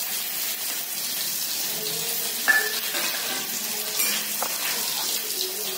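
Ajwain seeds and a chopped green chili sizzle steadily in hot oil in a home kitchen, with a soft continuous crackle and one brief sharper pop partway through.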